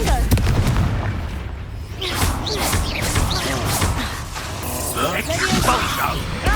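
Confringo spell blasts in the Hogwarts Legacy video game, loud booming explosions and crashing impacts layered with battle effects and shouted voices throughout.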